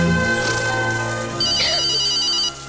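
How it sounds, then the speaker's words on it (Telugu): Telephone ringtone chiming loudly in a Telugu comedy scene, a bright electronic melody of sustained tones playing for about two and a half seconds before cutting off, no talking. "ఫోన్."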